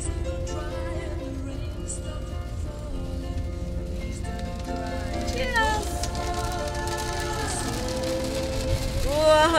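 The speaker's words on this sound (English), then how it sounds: "It's the rain, I know." Rain falling during a drive, a constant wash of patter under a steady tonal drone, with a rising tone near the middle and the end.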